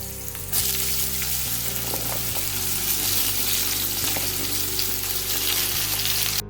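Cumin seeds crackle and splutter in hot oil for an Odia no-onion, no-garlic veg dish, a loud, dense sizzle with sharp pops throughout and a sudden start.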